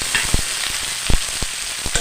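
Onion, capsicum and tomato frying in a pan for an egg dish, a steady close sizzle broken by sharp spatula scrapes and taps at an uneven rhythm, loud with no talking.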